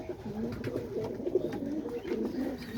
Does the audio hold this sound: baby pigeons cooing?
yes